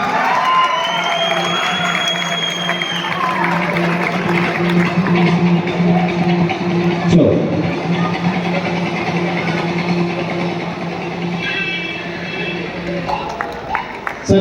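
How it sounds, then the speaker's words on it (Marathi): Loud crowd applause and cheering for a 4-year-old bodybuilder at a bodybuilding contest, sustained clapping throughout with a steady hum and voices mixed in. "जोरात टाळ्या वाजल्या त्या लेकरासाठी."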